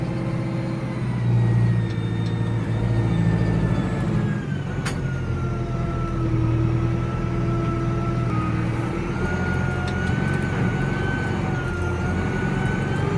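A 5711M tractor pulls a slurry tanker across a field with a steady, loud low engine drone and a faint rising whine, close and continuous, broken by a brief sharp click partway through.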